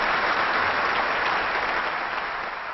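Thunderous audience applause at a memorial ceremony greets a guest of honour, a thick, even wash of many hands clapping at steady loudness with no voices over it.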